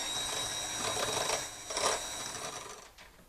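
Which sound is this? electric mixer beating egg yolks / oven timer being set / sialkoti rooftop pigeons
electric mixer beating egg yolks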